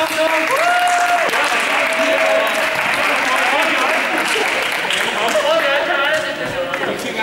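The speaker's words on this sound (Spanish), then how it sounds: "Un aplauso." A loud burst of audience applause at a group contest, dense clapping held throughout, with shouts and cheering voices rising over it.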